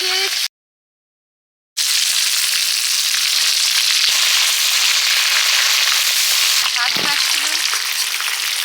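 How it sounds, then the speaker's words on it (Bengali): Brinjal slices frying in hot oil give a loud, steady sizzle with fine crackles, broken early by a brief silent gap of about a second before the frying resumes unchanged to the end. "বেগুন লাল করে ভেজে নিয়েছি তুলে নিচ্ছি"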